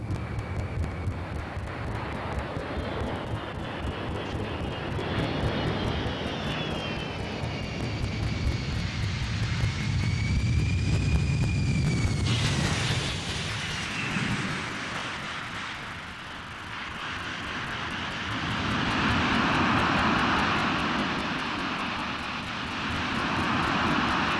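Large aeroplane engines at the Farnborough airshow, a loud sustained roar and whine with shifting pitch as the aircraft runs and maneuvers, mixed with wind buffeting on the microphone.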